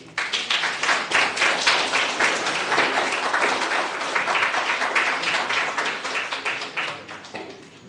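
Dense, sustained audience clapping after a presenter at an inter-schools water week debate, loud and even for several seconds before thinning slightly at the end.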